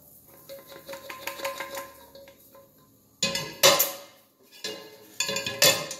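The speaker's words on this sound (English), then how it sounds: "we actually just put it right into our colander to drain the grease off" Cooked ground beef with onions is scraped into a colander to drain its grease, a run of light metallic taps and clinks followed by louder scraping clatters in bursts, close up with no talk.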